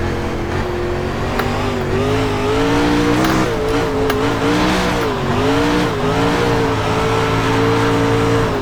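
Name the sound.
race car engine revving in iRacing video game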